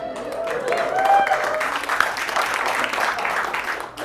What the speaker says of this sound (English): Got more applause than God.